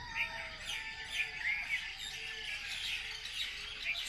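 Birds chirp and call in Moorea, with roosters among them: repeated short tweets layered over a soft, steady outdoor background, moderately distant and fairly quiet.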